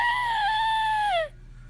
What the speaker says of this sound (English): Wait, what was that screaming?